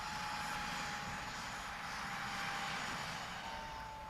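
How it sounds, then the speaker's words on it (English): Army helicopter flying over Government House in Port Stanley, a steady broadband engine and rotor roar holding at constant loudness throughout, moderately distant with no voices. "An army helicopter helps out on the civilian front."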